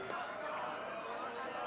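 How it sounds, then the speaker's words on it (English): Basketball crowd at a boys high school game roaring in a steady, dense wash of cheering and chatter from the stands, filling the gym with continuous noise. "as you can hear, the crowd section is getting fanatic"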